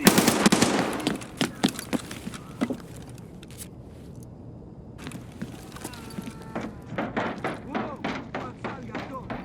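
Bursts of MP5K submachine gun fire in a first-person shooter game, loud rapid rattling strings of shots broken by a quieter lull, then more fast bursts near the end.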